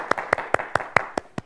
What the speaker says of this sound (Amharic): በደንብ አድርጋችሁ አጨብጭቡላቸው